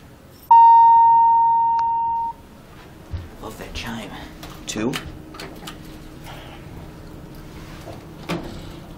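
A Dover Impulse hydraulic elevator in a community bank in Wheaton, Illinois, gives a long, steady electronic beep, followed by quiet door movement, soft mechanical clunks and a faint running buzz, close by.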